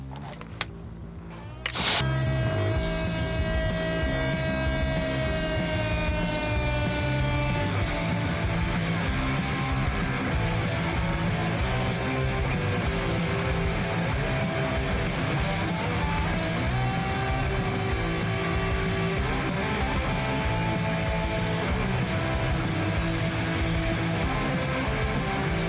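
A belt grinder running an 80 grit belt to smooth a 1095 steel knife blade before heat treating, a steady loud whirring hiss that starts abruptly after a brief quiet moment and runs continuously for the rest of the clip.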